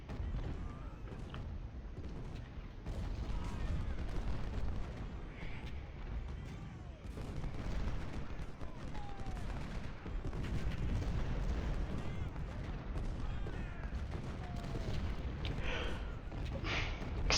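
Civil War artillery booming in Ultimate General: Civil War during a battle at Fredericksburg, a dense rolling wash of distant cannon thuds and rumbles, steady and continuous over a low battlefield din.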